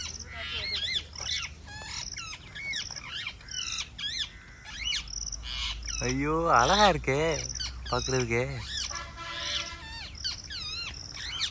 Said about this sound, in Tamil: கிளி சவுண்டு உங்களுக்கு கேட்குதா?